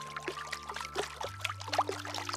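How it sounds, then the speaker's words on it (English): A frog splashes into a big muddy puddle in a park, a short watery plop and trickle heard close up over a steady low tonal hum, with no talking. "the frog leaped straight into a big muddy puddle"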